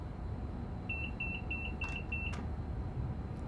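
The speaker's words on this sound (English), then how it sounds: "that beep was just warning me that I needed to press the vigilance pedal" A Class 390 Pendolino cab in Train Sim World 5 gives a vigilance warning: five short, evenly spaced high beeps over a steady low rumble of the moving train.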